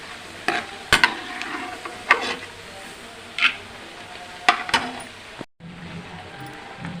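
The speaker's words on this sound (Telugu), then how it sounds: "కొంచెం జీడిపలుకులు వేసుకున్నాను. కొంచెం వేపేసుకొని పక్కకు తీసేసుకోవాలి." Cashew nuts fry in hot oil in a kadai, a low sizzle under intermittent scraping and clinking strokes from a stirring spoon. The sound is close, with a brief cut near the end.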